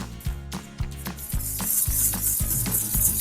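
A wire whisk beats dry cookie ingredients for snickerdoodles in a bowl, giving regular rhythmic scraping strokes, about two per second, close and clear with no talking.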